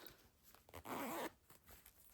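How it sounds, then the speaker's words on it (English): A short zipper pull closes the pouch of a heated cordless eye mask, one quick rasping stroke heard close up in a quiet room. "and it's so easy, and then zips right up"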